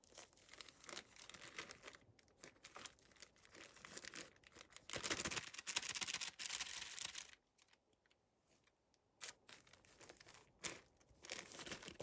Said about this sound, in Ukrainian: Ось так вставляємо в зип пакетик та присипаємо землею.